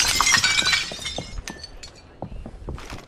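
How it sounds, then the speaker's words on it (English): Glass shattering inside the Warzone zombies mode: a bright, crashing break followed by scattered tinkling shards over roughly three seconds, moderately loud and close, with no talk over it. "That was me breaking glass."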